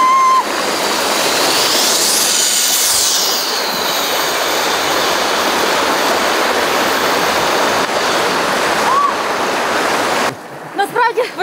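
Falling water of a mountain river waterfall in Transcarpathia in winter, a loud, steady broadband roar lasting about ten seconds close to the microphone, ending abruptly into a quieter scene.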